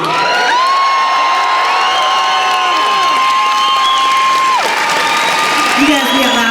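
A loud studio audience cheers, whoops and applauds continuously at close range, with shouts and whistles rising over the clapping.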